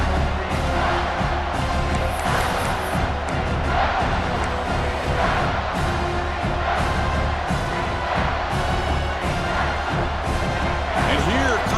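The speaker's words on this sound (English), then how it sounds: "This crowd is trying to inspire this defense to make a big red zone stop" Stadium crowd roar in EA Sports College Football 26 as fans get loud for a red zone defensive stand, a dense, sustained wall of cheering and whooping with commentary voices talking over it throughout.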